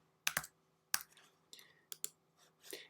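Several quick keystrokes on a computer keyboard entering a note number, close and crisp, in small irregular bursts: a double tap, a single, then a few more clicks.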